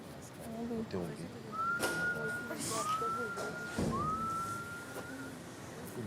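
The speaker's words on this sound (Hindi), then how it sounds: "सायरन बढ़ गया, जल्दी आ।" A faint siren wails in rising sweeps three times in the distance, with quiet voices and background noise underneath.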